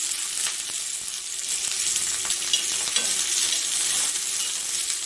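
Methiya chillies sizzling in hot oil, Kathiyawadi style, a loud steady crackling fry with small pops throughout, heard alone without voices.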